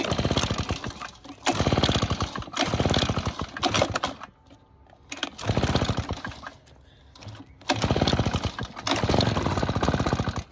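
Poulan PR46BT leaf blower's small two-stroke engine, choked, catching and sputtering in loud close bursts that die out briefly between attempts, roaring up again several times.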